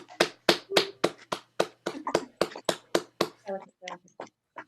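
Group clapping in thanks to essential workers during lockdown, a series of distinct, close claps in a fairly regular rhythm, about fifteen in all, thinning toward the end with scattered softer claps.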